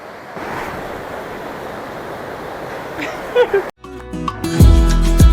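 Rushing mountain river water flows steadily near Hemkund in the Himalayas, a broad continuous roar heard from a balcony, broken partway by a brief cut and followed by louder mixed sounds.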